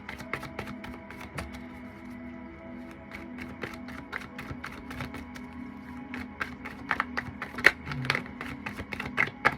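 A deck of cards being shuffled, with repeated sharp riffling taps and flicks at close range over a faint steady hum, growing busier toward the end.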